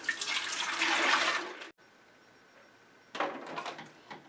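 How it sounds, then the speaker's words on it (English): Ice cream custard pours into a 4-quart ice cream maker, a loud liquid rush for over a second, then a near-silent pause before another burst of pouring and splashing. "Just pour my custard in."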